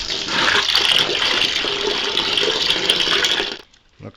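Oil pours from a damaged Chevrolet 327 engine block into the oil pan during a teardown, heard as a steady, loud liquid splashing and gurgling for about three and a half seconds before cutting off into near quiet.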